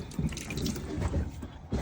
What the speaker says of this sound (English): And don't forget the porta potty, and it's flushable.